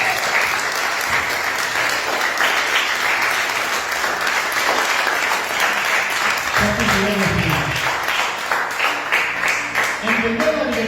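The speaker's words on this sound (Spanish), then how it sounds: "¿No se merece un aplauso a Jesús?" A church congregation claps steadily and loudly for about eleven seconds in a sustained wash of applause, with a voice speaking over it in the later part.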